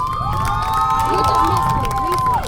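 A large crowd at a poetry event cheers and shouts continuously, with scattered applause and a few high excited voices rising above the roar.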